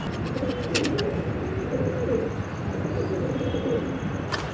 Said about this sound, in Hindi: अब मैं अपने गोल्डन कबूतरों में से कबूतर दिखाने लगा